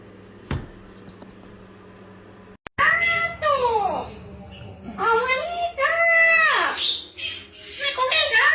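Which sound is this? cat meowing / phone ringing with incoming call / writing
cat meowing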